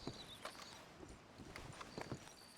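Horses' hooves clip-clop steadily in Red Dead Redemption 2 beside a wagon, a run of uneven thuds over a constant ambient wash with no talking.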